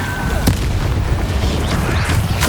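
A Confringo blasting spell explodes in the video game Hogwarts Legacy, a loud, booming burst that rumbles heavily throughout the short moment, with a sharper crack near the start.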